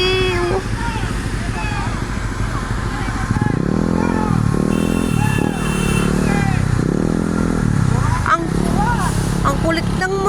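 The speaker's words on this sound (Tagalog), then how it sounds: "Ang kulit ng motor." A motorcycle passes close by on a road, its engine revving loudly and rising and falling in pitch over several seconds while people talk over it.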